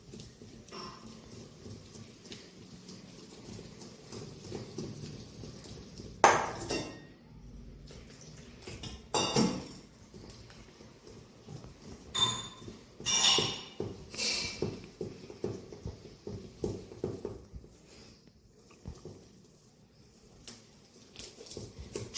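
Besan batter mixed with water in a bowl for motichoor laddu, a soft steady stirring and sloshing with occasional louder clinks of the spoon against the bowl.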